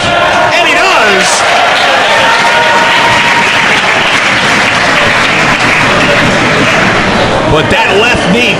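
Wrestling crowd roaring and applauding through a DGUSA Open the Freedom Gate title match between Masaaki Mochizuki and B×B Hulk, a dense, steady wall of arena noise with commentary running over it.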